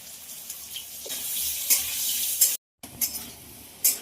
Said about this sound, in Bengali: আলুটা ভাজার জন্য ছেড়ে দেবো